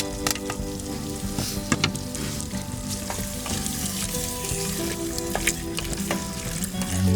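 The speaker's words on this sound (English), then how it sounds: "we can also add in the garlic now, for that pork to bring out the flavor." Garlic and pork fry in a pot for Hungarian goulash, a steady loud sizzle with scattered crackles and pops and occasional stirring scrapes, no voices.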